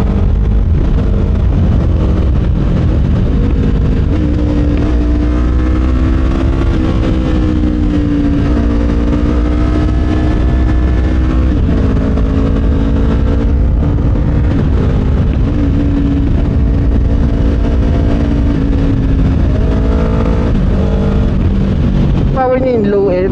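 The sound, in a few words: Kawasaki Ninja 500 motorcycle engine while riding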